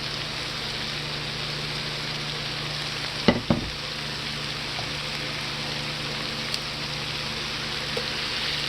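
Chard fries in clarified butter in a hot pan, a loud, steady sizzle heard close up throughout, broken by a couple of sharp clatters partway through and a few faint ticks later.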